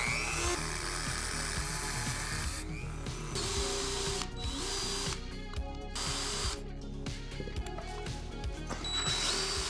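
A power drill bores a hole through a Tesla electric motor part in cramped quarters to fit a new bus bar, a steady close whining grind with brief pauses and restarts.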